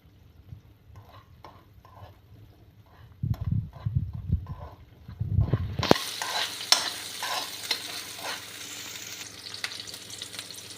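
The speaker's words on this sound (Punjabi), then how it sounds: "ਆਪਾਂ ਤੜਕੇ ਨੂੰ ਬਰਾਊਨ ਹੋਣ ਤੱਕ ਭੁੰਨਾਂਗੇ" An onion tempering for a bread breakfast dish is stirred in a pan, quiet spoon scraping at first, then a louder continuous frying sizzle starting midway with steady stirring knocks.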